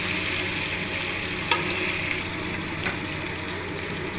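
Capsicum and green chilies fry in a pan with a steady, close hiss of oil, broken by a couple of brief clatters as the vegetables are stirred.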